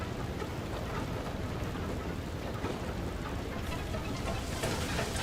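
Hail pelts down steadily during a storm in the video game FAR: Lone Sails, a dense, even hiss of pattering impacts that holds constant and loud throughout, with no talking.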